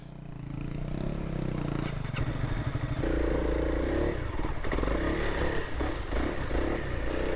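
Honda CRF300L dual-sport motorcycle engine on a rough backcountry trail, running steadily up close with throttle changes, clattering and scraping from the rocky ground under the bike.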